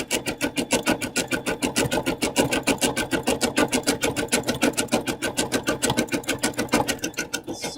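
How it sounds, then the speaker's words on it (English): An embroidery sewing machine stitching a helmet design onto a T-shirt, a fast, steady, close mechanical chatter of needle strokes in even rhythm, running alone without voices. "So the helmet is what's being sewn right now."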